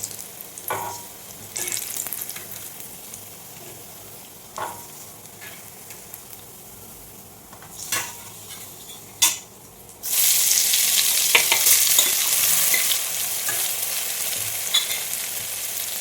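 Soya chunks deep frying in oil crackle and bubble nearby, with occasional clinks of a slotted spoon; the sizzle swells much louder and denser halfway through as a fresh batch goes into the oil, with no speech.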